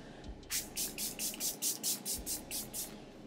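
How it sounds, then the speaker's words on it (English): A rapid series of about ten short sprays of makeup setting spray onto a face, each a brief hissy burst in quick rhythm, close and fairly loud. "I'm gonna spray my face with the Milani Make It Last."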